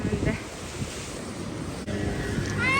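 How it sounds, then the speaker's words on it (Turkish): Rough, continuous surf with wind buffeting the microphone, waves washing in a steady broadband roar close by, outdoors by the shore. "Denizin dalgasına bakın."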